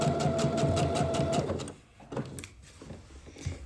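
Sewing machine seaming two trouser pocket linings together, a steady close run that stops partway, followed by quieter handling noises.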